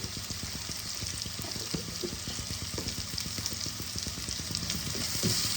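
Onions frying in a pan for a Bengali fish curry give a steady, close sizzle with scattered crackles and light stirring scrapes throughout, with no voices.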